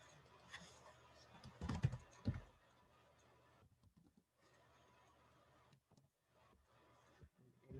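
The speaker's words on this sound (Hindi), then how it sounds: "Let me type it here." Typing on a computer keyboard comes as a short, quiet burst of clustered key clicks early on, then fades to a few scattered taps over near silence.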